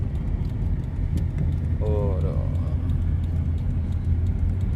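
A 1991 Toyota Crown with a 2000 cc six-cylinder engine heads onto a toll road, giving a steady low engine and road rumble from inside the cabin, with a brief voice over it.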